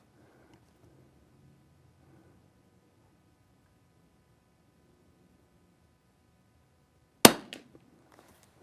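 A single sharp report from a .22 rimfire target rifle firing Eley Team ammunition, loud and close, cracking out after a long quiet stretch with faint background hum.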